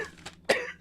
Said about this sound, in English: What, coughing my lungs out?